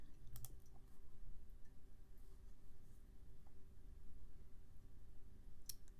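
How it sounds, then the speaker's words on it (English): Computer keyboard typing at a desk, a few faint scattered key clicks over a steady low hum, quiet and sparse, no talking. "when I start typing in Panda"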